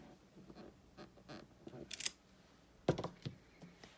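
A rubber floral stamp inked in Night of Navy is pressed onto paper, giving a few soft taps and clacks close by along with light handling rustle, quiet with no talking.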